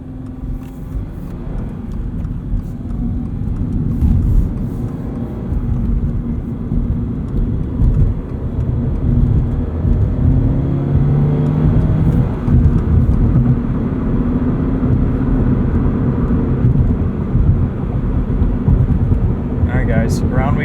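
2022 Subaru BRZ on Bridgestone Potenza RE-71RS tires lapping a race track, heard from inside the cabin as a loud continuous engine drone and road roar with shifting pitch, no talking.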